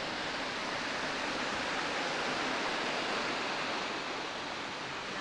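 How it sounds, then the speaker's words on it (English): Steady, dense roar of a waterfall fills the whole stretch evenly, a continuous broadband rush with no breaks and no voices. "We made it to the waterfall."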